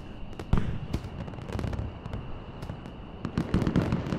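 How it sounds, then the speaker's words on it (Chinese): Fireworks burst in a rapid, uneven series of sharp cracks and booms, with several louder detonations standing out over a continuous crackling background. "有机会看到这些独一无二的烟花"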